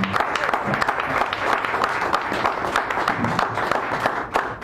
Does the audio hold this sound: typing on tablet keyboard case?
no